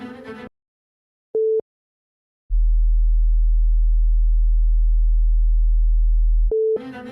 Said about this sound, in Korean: 방금 들으신 두 번째 들은 소리는 저주파 40Hz입니다.